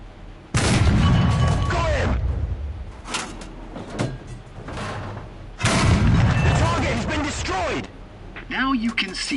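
Two heavy booming tank cannon shots loaded with composite shells in War Thunder, each a loud blast with a rumbling decay, separated by a few seconds, alongside mechanical clanks and a voice.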